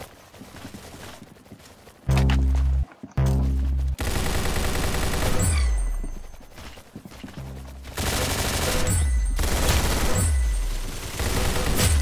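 Rapid bursts of automatic gunfire and single shots in the Roblox Arsenal shooter game, loud and dense, repeating in volleys across the whole stretch with brief gaps.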